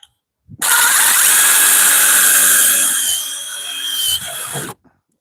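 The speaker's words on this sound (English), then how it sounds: "I'll just drill another hole" A power drill bores a screw hole during a DIY mini truck camper build. It whines loudly and steadily for about four seconds, dips in pitch as the bit bites, then stops abruptly.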